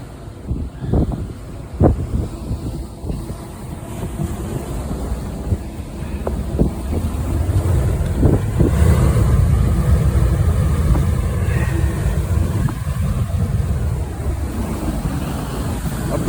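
Strong gale wind roars on the Cairngorm mountain summit, buffeting the microphone in heavy gusts, rising and staying loud and continuous throughout, with no voices.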